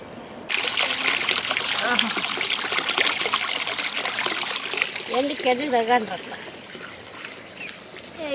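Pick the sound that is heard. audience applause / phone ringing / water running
water running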